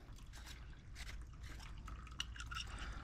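Water trickles and drips from the drain valve of a household hot water heater, a steady faint liquid flow with small splashes and a brief louder drip near the end.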